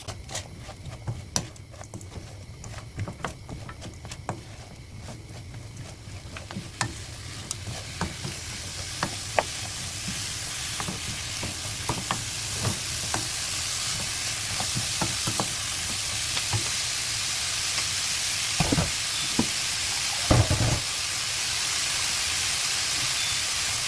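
Radish sizzles steadily in a hot pan with sesame oil and coarse salt while a utensil scrapes and clatters intermittently, stirring throughout.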